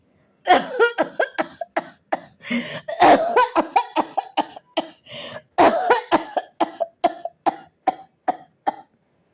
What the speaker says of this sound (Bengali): আবার তার কাশি ওঠে